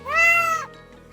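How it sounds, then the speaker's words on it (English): A single close cat meow, rising and then falling, clear and fairly loud, lasting about half a second before fading into quiet. "We have a cat."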